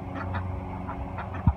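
Soft, low quacking from ducks murmurs in a short sequence, with one louder thump near the end.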